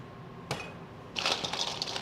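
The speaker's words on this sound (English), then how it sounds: "Add your ice to your glass." Ice cubes clink into a drinking glass during a home cooking session, one sharp knock followed by a cluster of bright rattling clinks as more cubes tumble in, close and fairly quiet.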